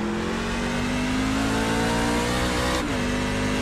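NASCAR truck engine in the iRacing sim at Watkins Glen International, a steady mid-pitched drone held close and loud throughout, with a brief dip and shift in tone near the end like an upshift or lift off the throttle.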